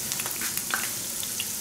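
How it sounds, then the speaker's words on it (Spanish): Picarones, Peruvian fritters, frying in hot oil, a continuous close sizzle with fine crackles and small pops and no one speaking. "Y así vamos a ir friendo los picarones hasta"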